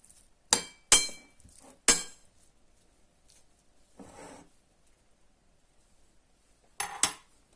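Chopped beetroot is stirred in a bowl: a few sharp spoon-on-bowl clinks ring out near the start, then a soft scrape, quiet gaps, and a final pair of clinks, all close and clear with no talking.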